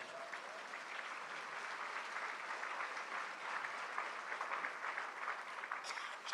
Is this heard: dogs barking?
no